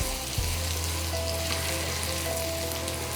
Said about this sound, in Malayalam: ഇതിനോടൊപ്പം ഒന്ന് വഴറ്റിയെടുക്കാം